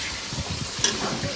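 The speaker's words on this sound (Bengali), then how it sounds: "আদা রসুন বাটা একবারে দিয়া কষানো যাচ্ছে" Ginger-garlic paste sizzles steadily as it is sautéed, a continuous close hiss with soft rhythmic scrapes from stirring underneath and one brief sharper clink near the middle.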